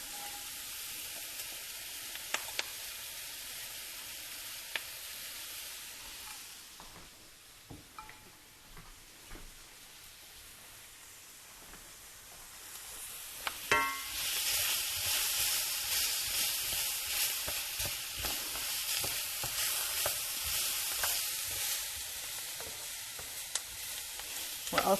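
Chopped onions, bell pepper and celery hit a dark browned roux for shrimp and crab étouffée, bursting into a loud, steady close sizzle that swells midway and holds, with occasional clicks of a stirring spoon.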